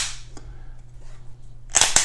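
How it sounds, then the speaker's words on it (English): Smith & Wesson M&P 2.0 9mm pistol trigger resetting, heard as two sharp, close metallic clicks in quick succession near the end, after a quiet stretch with only faint handling noise. "If you cock it and let her go forward, it will reset. You hear the click"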